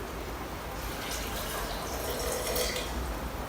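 Vinegar poured into a container, a continuous close splashing, gurgling pour with broadband watery hiss running steadily throughout.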